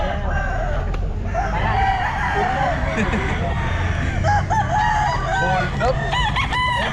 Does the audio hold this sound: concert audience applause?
no